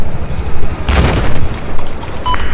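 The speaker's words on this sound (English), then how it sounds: "That's a cruise missile." A cruise missile explodes in a sudden heavy blast about a second in, a broad rumbling explosion that decays slowly amid continuous low background noise, in the video game Battlefield 4.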